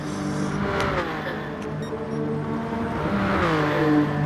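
BMW VGT race car engine in a racing video game on the Sardegna road circuit, steady loud engine drone with rising and falling revs as the car lifts slightly and shifts down through a corner.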